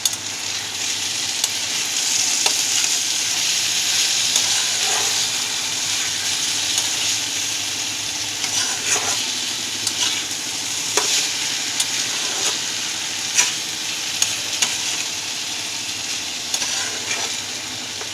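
Papaya pieces frying in a little ghee hiss with a steady close sizzle while a spoon scrapes and stirs the pan in repeated sharp clinks and rasps, no voices present.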